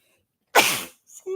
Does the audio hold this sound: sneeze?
yes